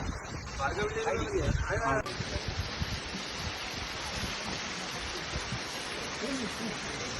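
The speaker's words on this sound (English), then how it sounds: "The sound of waterfall was always with us." A continuous rushing roar of a monsoon waterfall near Matheran, India, broadband and steady, with a person briefly talking near the start.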